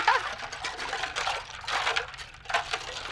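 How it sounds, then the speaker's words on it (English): Spices and other ingredients being whisked together in a bowl, a continuous scratchy, swishing whir with rhythmic surges as the whisk circles, fairly close and steady with no talk. "you wanna whisk it together"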